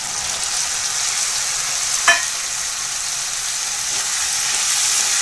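Cabbage goes into a frying pan of cooked green peas, producing a loud, steady hiss and sizzle with a brief clink partway through.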